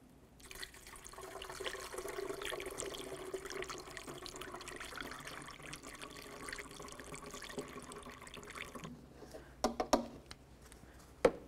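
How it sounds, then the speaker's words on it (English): Coolant is poured through a funnel into the coolant reservoir of a 2003–2007 Honda Accord 2.4L, a soft, steady trickle of liquid lasting several seconds before it ends in a few faint clunks and taps. "We'll use the manufacturer's specified coolant."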